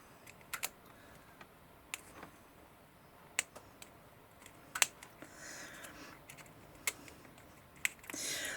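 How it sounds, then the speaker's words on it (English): Sharp, quiet scissor snips between the tabs of a chocolate box kit repeat at irregular intervals against a soft background hiss, each cut a brief crisp click close to the listener. "now I'm going to snip in between each tab"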